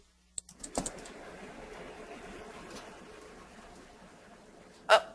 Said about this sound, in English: I think she's typing.